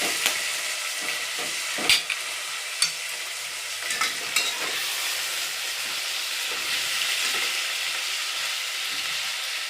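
Ingredients for masale bhat stirred and sautéed in a pan, a steady close sizzle broken by several sharp spoon knocks against the pan.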